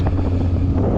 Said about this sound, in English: Just to give you an idea on the wind out here